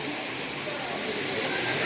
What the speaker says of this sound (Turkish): Bugün Yalova'nın Erikli Şelalesi'ndeyiz arkadaşlar.